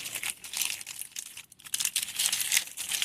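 Dry, papery onion skin crinkles and crackles steadily as it is peeled by hand in a home kitchen, the crisp rustling close and continuous with brief dips; no talking.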